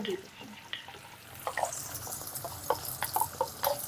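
Chilli chicken being stirred in a hot pan with sauce, quiet scraping and soft sizzling with intermittent clinks of the spatula, faint and close.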